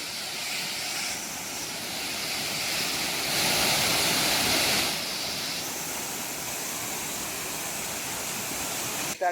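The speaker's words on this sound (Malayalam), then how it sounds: "ഇവിടെ ഈ വെള്ളച്ചാട്ടം കണ്ടപ്പോൾ ഇറങ്ങിയതാട്ടോ" A forest waterfall near Athirapally, heard as a steady broadband rush of falling water that swells briefly in the middle, alone with no voices, with a short handling bump at the very end.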